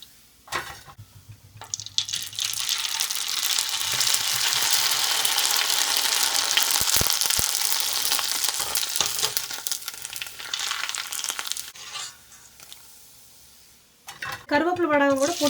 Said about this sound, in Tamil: ஒரே செகண்டில் உங்களுக்கு வடகம் பொரிஞ்சு வந்துருச்சு